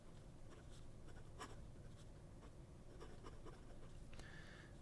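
A dry Tremol vacuum-filling fountain pen nib drags across paper, giving a soft, steady close scratching with a few brief strokes and skips, quiet and alone.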